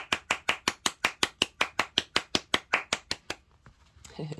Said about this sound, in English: I try and not speak when they're clapping, because I do appreciate that it's quite an intense noise